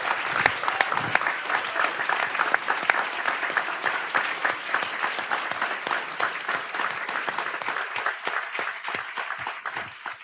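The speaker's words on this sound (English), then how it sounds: "Let's give them a round of applause." An audience gives sustained applause for panelists at an environmental justice initiative launch, dense steady clapping carrying on alone for about ten seconds and thinning slightly toward the end.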